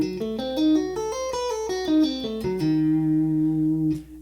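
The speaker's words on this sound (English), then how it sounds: "So now the minor and the diminished arpeggio together sound like this." A guitar plays a lick combining a minor and a diminished arpeggio, quick single notes rising and falling before settling on a sustained final note, clean and close with no talking.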